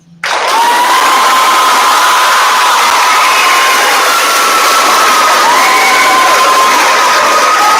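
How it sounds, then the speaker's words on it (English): A large crowd of sixth-grade students at a middle school awards ceremony cheers and shouts loudly and continuously, a dense sustained roar with high whoops and screams rising above it throughout. "I need you to cheer as loud as you possibly can for the one, the only, Mrs. Lindsay."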